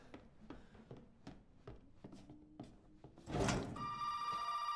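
Telephone ringing in the horror video game Resident Evil 7, set in a house: a series of faint, sharp rings and clicks, then a louder burst with a sustained tonal ring at the end, no talk.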